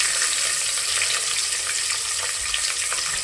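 Tomato drops into a hot pan of frying peanuts, curry leaves and onion while cooking bisi bele bath, giving a loud, steady, close hiss of sizzling oil that runs on without a break and with no talking.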